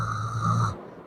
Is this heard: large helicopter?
no